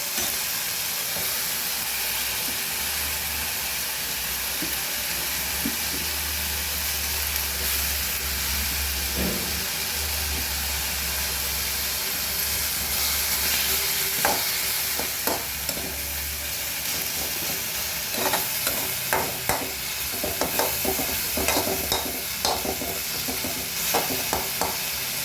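Onions roasting in a pan for chicken biryani, a steady hissing sizzle that carries on throughout, with a low hum early on and a run of sharper stirring scrapes toward the end.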